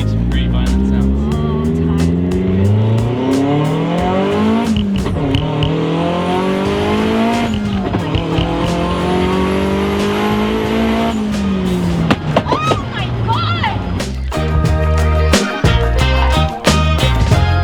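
A Hyundai Genesis Coupe engine revs hard and loud, its pitch climbing and falling through repeated sweeps, with sharp bursts and pops toward the end; no talking over it.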